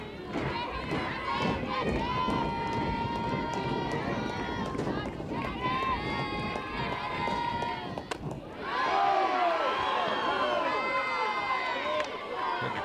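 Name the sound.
crowd cheering at a college softball game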